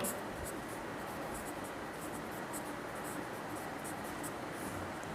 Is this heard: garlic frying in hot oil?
no